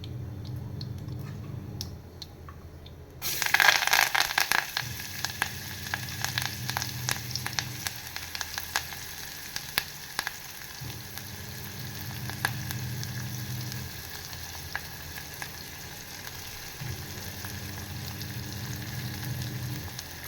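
Onion goes into hot oil with asafoetida, and a sharp sizzle flares up, then settles into a steady close frying crackle. A low hum comes and goes underneath, with no speech.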